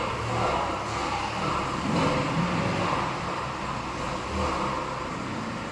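An Aston Martin GT3 race car engine idles with a deep throaty rumble, swelling in a few mild revs, fairly loud and close, with no speech.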